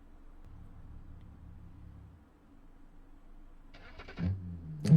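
A Holden Torana muscle car in the BeamNG driving game, quiet at first, then a short engine roar and rev near the end as it launches with wheelspin.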